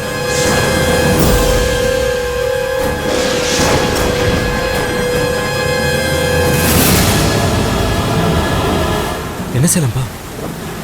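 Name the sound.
thunder and storm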